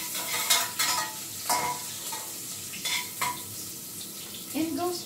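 Garlic frying in a pan, with a soft sizzle under repeated clattering stirs and scrapes of a utensil against the pan, coming in bursts and sounding close.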